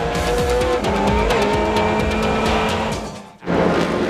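A BMW M3 GTR race car from on board at Mid-Ohio during a 2001 American Le Mans Series race, its engine roaring loudly and steadily through gear changes, with a brief dip near the end before full power returns.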